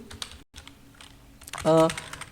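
Keys clatter softly on a computer keyboard as code is typed for a React tutorial, a quick irregular patter of clicks close by, with a voice speaking briefly near the end.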